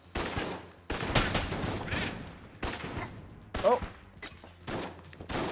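Gunfire in the video game Enter the Gungeon, several loud bursts of shots at a moderate pace, each decaying quickly, with a player's voice briefly exclaiming between them.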